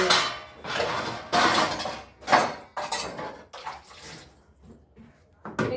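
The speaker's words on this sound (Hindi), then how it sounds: "अब धो लेते हैं बर्तन" Dishes and utensils being washed under running water at home, with repeated clattering of pots, plates and cutlery against splashing water, close and loud with no talking.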